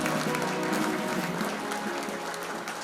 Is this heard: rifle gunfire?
no